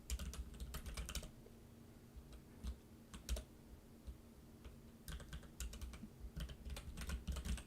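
Notes being typed on a computer keyboard, with quick bursts of close, light key clicks, short pauses between runs and a faint steady hum underneath, no voices.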